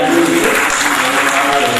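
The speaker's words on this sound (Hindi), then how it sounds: "सम्मान में जोरदार ताली बजाइए।" Audience at a Hindi comic poetry gathering breaking into loud, dense applause, a brief wash of clapping from a large crowd.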